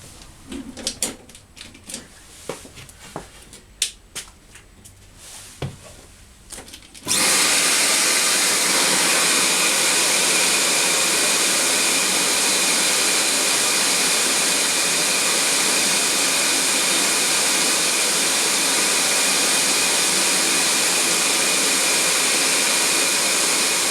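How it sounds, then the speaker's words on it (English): CamVac dust extraction system with both motors running, switching on abruptly after a stretch of faint clicks and then holding a loud, steady broadband roar and hiss to the end. "now I'm going to jump up and turn the other motor on and do a 2 motor reading."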